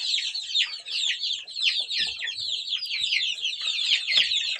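Month-old chicks, just moved to a wider space, cheep in a dense, continuous chorus of high peeping close by, with faint scratching underneath.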